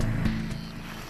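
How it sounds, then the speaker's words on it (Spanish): A motorboat passes on the water, its engine a low droning rumble that starts fairly strong and slowly fades as it moves away, with no talking. "Recién pasaba la lancha, ahora escuchamos que vuelve"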